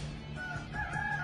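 A rooster crows briefly, fairly faint over a low background hum.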